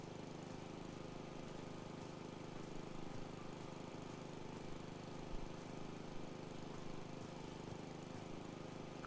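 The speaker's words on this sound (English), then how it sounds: "The white noise from the sound of the engine." A lawn mower engine in the House Flipper 2 video game runs as a steady, unbroken drone at moderate level, with no speech over it.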